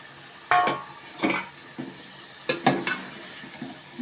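Village-style hand-chopped chicken keema with tomatoes is stirred and roasted in a pan. A constant sizzle runs under several sharp scraping clanks of a spoon against the pan, coming at irregular intervals and sounding close.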